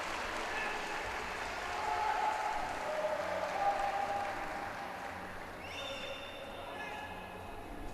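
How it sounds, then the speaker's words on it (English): Arena crowd at a men's floor exercise gymnastics competition in Mersin cheering and applauding, a sustained wash of clapping and voices heard at moderate distance beneath a commentator talking. "you can hear the support from the crowd there"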